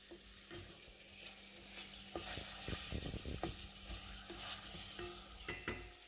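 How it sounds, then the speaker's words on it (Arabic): Meat and onion fry quietly in a pan, a soft steady sizzle broken by a few brief stirring scrapes and clicks, no voices. "بعد ما تقلى شويه اللحم مع البصل"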